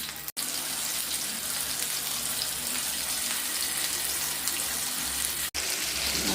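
Fish frying in groundnut oil on a tava gives a steady, dense sizzle that runs throughout, close and even, with two brief dropouts.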